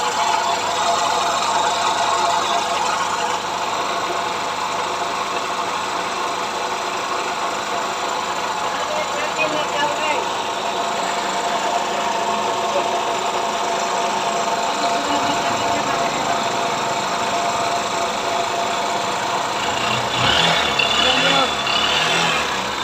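A Honda, Hero, Bajaj or TVS type motorcycle engine left running at idle during an engine oil leak check, a steady, continuous mechanical drone with a dense, even hum throughout and no speech.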